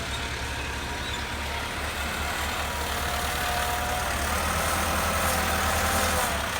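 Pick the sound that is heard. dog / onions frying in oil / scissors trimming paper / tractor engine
tractor engine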